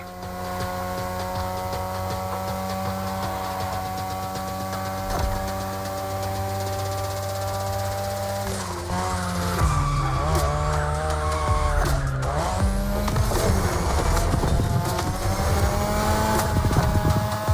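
A 2002 Mazda RX-7 with a rotary engine races in The Crew Motorfest, its high, buzzing engine note climbing and dropping through gear changes while tires squeal, growing louder and harsher partway through.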